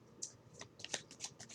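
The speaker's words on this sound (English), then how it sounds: "shuffling the yes, no, maybe oracle cards" A deck of yes/no/maybe oracle cards is shuffled close up, giving quick, crisp riffling flicks and soft papery slaps in an uneven burst, quiet and alone.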